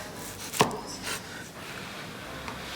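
A knife slicing through a rolled California-style sushi roll gives one sharp, brief cut near the start, then a fainter scrape, with no talking.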